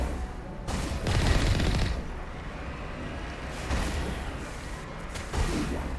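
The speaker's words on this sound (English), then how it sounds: "What is shooting at me?" Bursts of gunfire and heavy blasts from the Mass Effect Legendary Edition shooter come in loud waves, dense volleys separated by brief lulls of rumbling battle noise.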